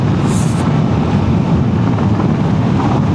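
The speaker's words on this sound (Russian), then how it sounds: "все-таки ветер обдувает" Steady wind rushes over a rider on a motorcycle with no hand protection, a continuous broadband roar at close range with no voices.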